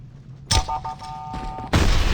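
Sniper rifle shots in a video game: a sharp booming blast, a short mechanical tone and clatter, then a second heavy report at the end.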